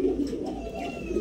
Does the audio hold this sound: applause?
no